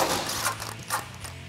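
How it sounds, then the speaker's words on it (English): A ratchet works loose 21 mm nuts on threaded studs while a Barricade pre-runner front bumper with skid plate is fitted to a 2018-2020 Ford F150, giving a short run of close clicking mechanical turns with no talking. "Grab your 21 deep socket, grab an extension and an impact gun or a ratchet and loosen them up."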